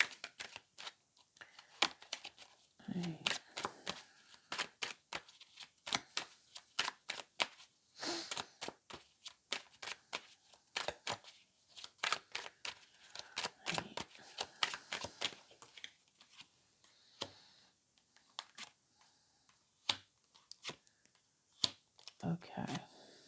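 Tarot cards shuffle by hand in a long stretch of quick riffling and clicking bursts with short pauses, fairly faint and close, with a voice speaking briefly now and then.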